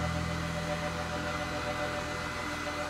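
A hair dryer blows steadily on hair being styled into a straight mushroom cut, a loud, even whoosh with a low hum that runs without a break.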